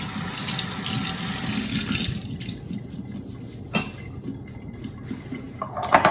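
Tap water runs steadily into a sink as quinoa is rinsed, a continuous splashing stream, louder for the first two seconds and then softer, with small clinks near the end.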